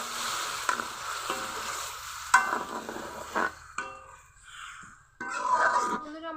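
Red amaranth greens hit a hot pan of lightly fried garlic, a sudden loud sizzle with stirring and scraping, then quieter gaps before a second burst of frying; a voice murmurs briefly under it.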